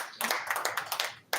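Applause from the audience at an official meeting between an EU election observation mission chief and the electoral commission, a burst of dense clapping that carries on steadily, fairly close and with no talk over it.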